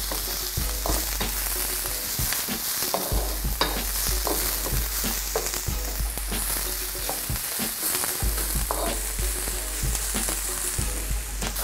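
Minced garlic and mixed vegetables sauté for a Malaysian stir-fry, a loud continuous sizzle broken by frequent scraping and clattering strokes of a utensil tossing the ingredients in the pan, with no voices.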